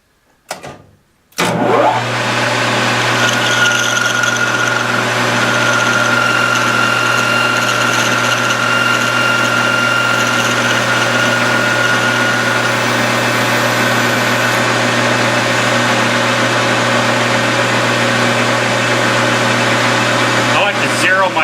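A milling machine starts with a sharp jump and then runs steadily while machining nylon washers, a loud constant motor hum with a strong low tone and bright whine, continuing alone for about twenty seconds.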